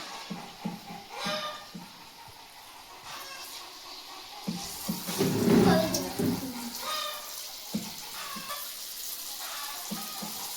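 Palm fritters (taler bora) dropped one at a time into hot oil, cooked village style, giving a sizzling, bubbling burst that swells midway and stays close, with intermittent talking over the frying.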